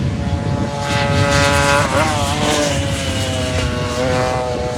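Stock scooters racing at Pembrey circuit, several small engines buzzing and whining together at high revs, loud and close, with pitch shifting as the bikes pass and change speed.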